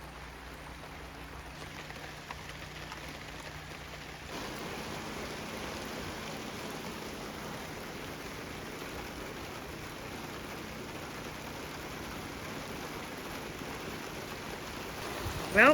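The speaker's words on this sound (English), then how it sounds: "Well, now it's hailing." Hail falls outdoors during an Alaskan summer, making a dense, steady patter that grows slightly louder partway through and continues evenly, with a brief knock at the end.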